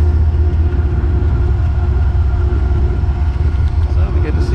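A Metro-North train pulls out of Poughkeepsie station on the Hudson, heading toward Albany, a steady loud low rumble and rolling drone filling the whole stretch, close by, with no one speaking over it.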